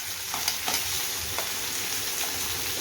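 Finely chopped onion and a green chili frying in a pan, a dense hissing sizzle with a few soft stirring scrapes, moderately loud and close, no voices.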